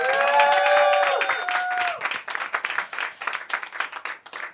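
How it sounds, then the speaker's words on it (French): A cabaret show audience claps and applauds for a performer, with crowd noise rising into dense, irregular clapping that continues to the end while a voice carries on at the start. "Je vous demande donc de faire un tonnerre d'applaudissements pour Garance Shinance"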